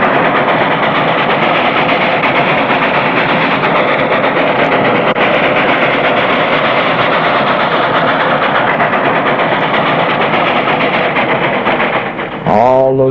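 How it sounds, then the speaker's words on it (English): A train rumbles steadily past at close range, a dense continuous roar that holds for most of the clip before briefly dropping off near the end. "The entire town turned out to see the first MP train pull into Marysville."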